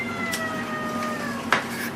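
A house cat gives a brief meow indoors, a single short call near the end over a steady background hum.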